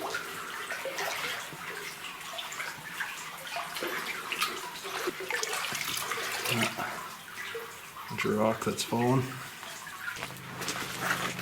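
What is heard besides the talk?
wading through knee-deep water in an old mine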